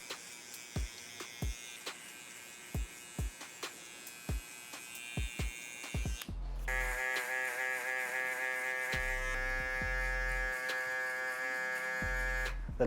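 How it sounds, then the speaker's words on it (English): An electric shaver with both foils working over a scalp during a mid drop fade haircut, starting with short clicks and taps before a steady close buzzing hum takes over, broken by brief low bumps. "use the electric shaver with both foils on the scalp, just to remove the stubble that much faster"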